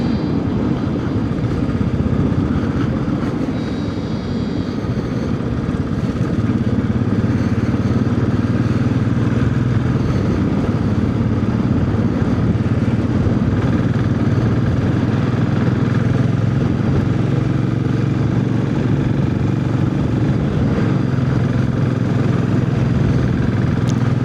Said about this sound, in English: the Royal Enfield is just eating up these hills and whatnot.